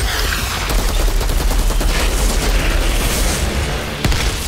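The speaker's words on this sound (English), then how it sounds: "Fucking grenades." Loud grenade blasts in the sci-fi shooter Outriders boom in a continuous roaring wall of noise, with a sharp crack near the end.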